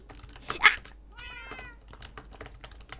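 A cat in Minecraft gives a single clear meow in the middle, set against a soft background of clicking like keyboard typing.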